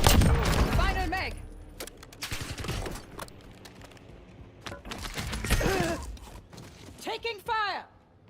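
Gunfire in the video game Warzone, sharp bursts and scattered shots mixed with mechanical clatter and game effects, with loud clusters at the start and middle while voices talk over much of it.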